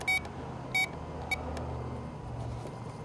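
Power Probe circuit tester beeping in a car electrical check: two short sharp beeps then a fainter brief third, over a low background hum, no talking.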